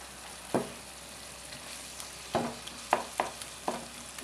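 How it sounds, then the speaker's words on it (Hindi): Softened tomatoes are mashed in hot oil in a cooking pan for lobia fry, several sharp spoon presses and scrapes against a soft background sizzle, close and fairly quiet, with no talking. "टमाटर नरम हो चुके हैं, अच्छे से मैश कर लेंगे।"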